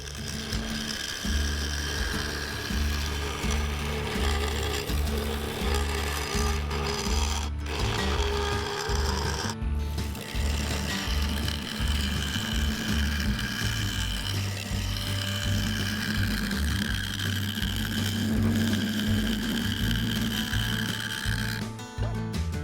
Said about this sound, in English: Using the negative rate scraper and gouge, I quickly got it done